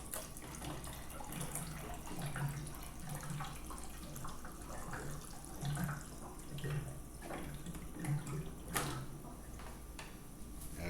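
Cold tap water runs steadily into a container for mixing Kool-Aid, a soft continuous gushing stream with faint clinks, quiet and without talking.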